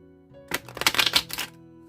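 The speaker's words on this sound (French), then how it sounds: "l'oracle G qui est là, que je brasse" Oracle cards shuffled by hand in a quick riffling burst of papery flutters and slaps, close and fairly loud, lasting about a second.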